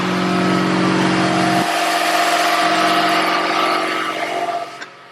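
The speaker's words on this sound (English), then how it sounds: "So in this case, I have a heavy duty compressor." Heavy-duty air compressor running loud and close with a steady hum, then cutting out near the end as the sound drops away.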